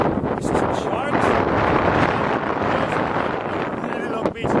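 Strong wind buffets the microphone on a long, empty beach in the Bahamas, a steady loud roar that continues throughout.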